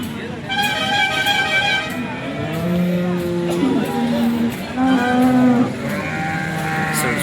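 A cow at a livestock market in Sangola moos loudly and close by in two long drawn-out calls, with people talking around it.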